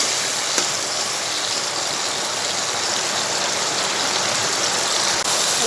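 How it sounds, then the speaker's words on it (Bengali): Salted potatoes fry in a pan with a constant, close sizzle that holds at an even level with barely any pops. "আলুগুলোকে একটু ভাজা ভাজা করে নেব।"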